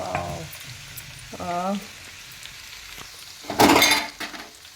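Dried red chillies and garlic paste fry in hot oil for an ugali-style amla pickle, a steady sizzle running throughout with a spoon clinking against the pan partway through and a louder burst of scraping and stirring near the end.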